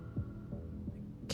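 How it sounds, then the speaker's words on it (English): A heartbeat sound effect from the game Love and Deepspace, a few low, soft throbbing beats over a steady hum, heard alone with no talking. "My heartbeat is faster than usual."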